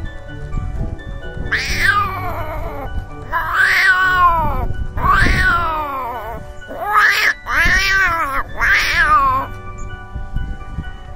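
A human voice imitates a cat, producing five drawn-out, wailing meows at a steady pace, loud and close with faint background noise.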